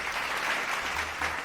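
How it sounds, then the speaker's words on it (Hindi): A studio audience on a talk show gives a quick round of applause, a short, full burst of clapping without talk. "give a huge clap for me please"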